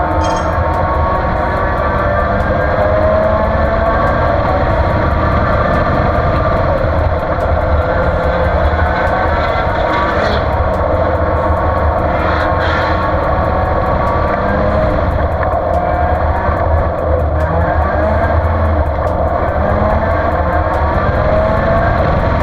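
A race car engine at full speed on the Willow Springs track during a lap of a VARA race, a loud, constant close-up drone that stays steady throughout with no talk over it.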